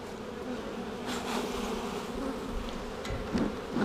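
Honey bees buzz in a steady, soft drone during a spring hive inspection, with a few brief louder swells as bees pass nearby. No one speaks.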